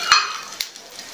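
Cumin seeds and green chilies hitting hot oil after mustard seeds, for a makhana namkeen: a sharp sizzling burst near the start that quickly settles into a softer steady crackle, with a second brief spit midway.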